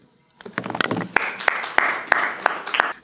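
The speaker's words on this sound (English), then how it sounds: "Please join me in welcoming Ms. Ruth Abebe with another round of applause." Scattered applause greets a speaker at a university student research forum, starting after a brief silence as a few close, sharp claps ring out individually over a thin background of softer clapping.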